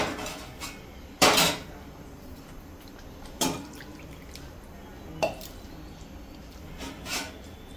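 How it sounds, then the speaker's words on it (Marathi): A lid set on a pot of home-cooked chicken curry gives a few sharp metallic clanks spaced a second or two apart, close by, over a quiet kitchen background. "आणि आता मी याच्यात झाकण ठेवते"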